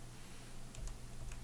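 Comma and period keys pressed on a computer keyboard while stepping frame by frame through a Dragon Ball speedrun: a few light, close plastic key clicks, isolated and quiet.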